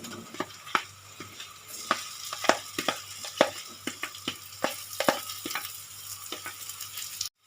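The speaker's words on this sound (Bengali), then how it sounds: "আর সুন্দর করে আলুটা আমি নেড়ে নেব।" Potatoes with spices are stirred and fried in a pan: a soft background sizzle is punctuated by a steady series of sharp spoon scrapes and knocks, roughly one or two per second, close and clear, with no voices.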